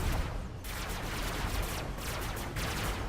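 Sustained SMG fire in the robot-building combat game Robocraft, a dense continuous rattle of rapid shots with a couple of brief breaks, loud and unbroken throughout.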